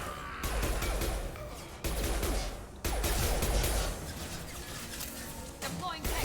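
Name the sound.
gunfire in the video game Mass Effect 2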